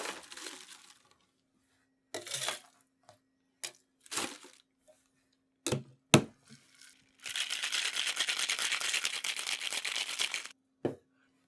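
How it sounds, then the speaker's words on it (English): Ice rattling inside a cocktail shaker while a lime-juice margarita-style drink is mixed, starting as scattered clinks and knocks, then a loud, steady shaking rattle lasting several seconds before one last clack. "Into the shaker with some ice."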